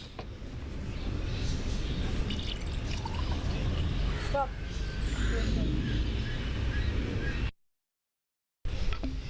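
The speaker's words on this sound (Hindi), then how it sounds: "अब हम अपने ग्लास वास में थोड़ा सा पानी डालेंगे।" Water is poured into a glass vase for rooting a purple heart plant: a steady trickling pour runs for several seconds, loud and close, ending with a brief silence and a short resumed splash.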